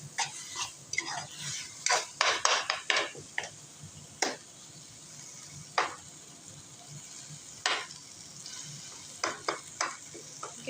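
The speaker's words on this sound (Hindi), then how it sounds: "अब इसको अच्छे से चलाऊंगी और फ्लेम थोड़ा तेज कर दूंगी" Roasted eggplant for baingan bharta being stirred in a pan, with soft sizzling under clusters of sharp spoon scrapes and taps at irregular intervals.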